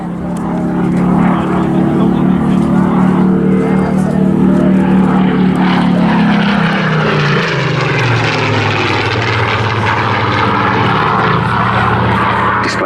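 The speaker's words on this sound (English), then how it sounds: "Displaying this superb aircraft today, we have Flight Lieutenant Andy Priest" Battle of Britain Memorial Flight historic propeller aircraft flying past at an airshow, a loud continuous piston engine drone whose pitch slides downward as it passes, with an announcer's voice running over it.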